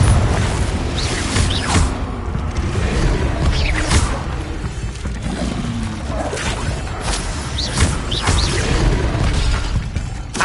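Repeated Confringo explosive spell blasts in Hogwarts Legacy, a series of sharp shattering bursts with whooshes over continuous game noise and rumble.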